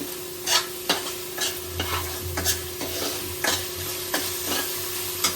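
Tomato masala spluttering in oil in a pan for a Barbati curry, a steady sizzle broken by repeated scraping stirs at a loose rhythm, close and moderately loud with a low hum beneath, no voices.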